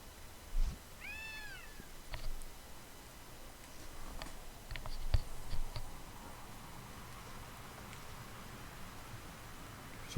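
Dusty the cat meows in the video game Gravity Rush, a short run of clear meows near the start, then faint clicks and ticks over a quiet background.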